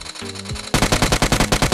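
Automatic gunfire in the video game PUBG: a short tonal cue, then a rapid burst of evenly spaced loud shots rattling for about a second.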